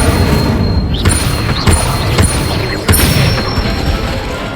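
Incendio fire spell cast in Hogwarts Legacy, a series of loud, close booming blasts with sharp crashing onsets, three or four hits spaced about a second apart.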